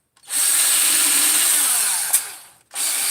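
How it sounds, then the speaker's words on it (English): A power tool spins a coarse roll-lock abrasive wheel, like a scouring pad, against an engine crankcase. The whine is steady, close and loud, then cuts out briefly near the end before starting up again. "This is a roll-lock wheel with a coarse, basically a Brillo pad on it."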